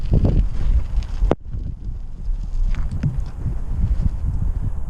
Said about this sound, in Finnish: Vähän tuulista täällä on.